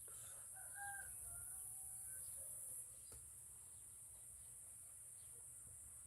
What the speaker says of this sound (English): The rooster's confused by daylight savings.